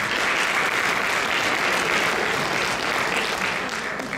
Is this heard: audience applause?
yes